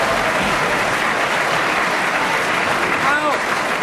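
Studio audience on a panel comedy radio show bursts into steady, full applause that fills the room at close range and holds evenly throughout, with a faint voice surfacing briefly near the end.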